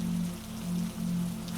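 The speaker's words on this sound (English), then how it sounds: "a streak of brighter sound ripples across the roof as a heavier band of rain passes over" Heavy rain drums steadily on a greenhouse roof during a storm, a dense continuous patter with a low droning hum pulsing underneath, close and even.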